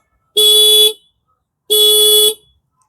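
Scooter horn sounding two loud, steady beeps about a second apart, each lasting roughly half a second, close by with silence between.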